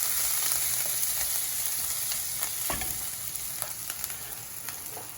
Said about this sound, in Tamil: அதுவும் பொரியுது.